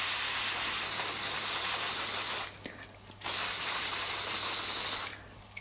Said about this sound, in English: We need to spray some copious amounts of penetrating fluid, or my personal favorite is Loctite freezing spray.